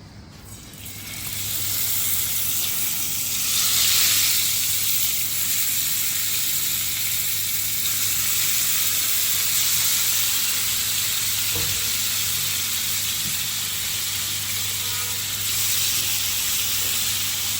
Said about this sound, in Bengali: মাছটা ভাজি করবো আমি